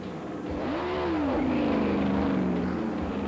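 A field of 44 NASCAR stock cars runs at Rockingham during a 1993 test session, one engine rising and falling in pitch as a car passes, over a steady drone of other cars.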